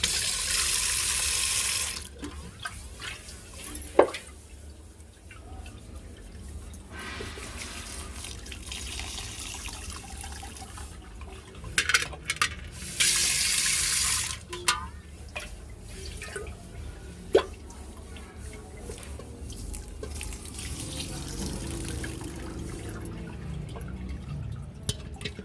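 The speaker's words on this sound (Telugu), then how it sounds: "ఇదిగండి కొంచెం కొంచెం వాటర్ వేసి ఇలా వేయాలండి" Water trickles and splashes in small, uneven pours over ragi grains held in a cloth at home, with bursts of stronger running water and scattered drips, close and fairly quiet.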